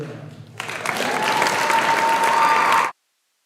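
Audience applause for award winners at a high school awards ceremony, a full crowd clapping steadily for about two and a half seconds before cutting off abruptly, with a faint whistle-like tone running through it.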